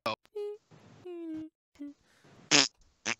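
A man blows a run of imitation fart noises with his mouth during a podcast, several short buzzy raspberries of varying length, one longer sputter, close and fairly loud, with no other talk.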